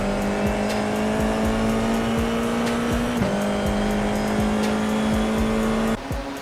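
A race car in a sim racing game, driven in a Danish national e-sport championship, holds a steady high engine note with brief dips at gear shifts and faint tire squeal throughout, loud and continuous with no talk.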